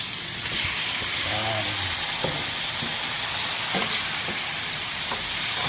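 Meat frying with onions in a pan, a steady close sizzle and crackle throughout, with occasional clinks of a utensil stirring and someone speaking briefly over it.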